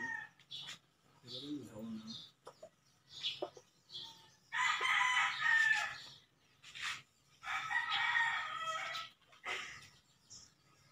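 Roosters crow near the mic, two long loud cock-a-doodle-doo calls standing out among shorter clucks and bird calls, with people talking in between.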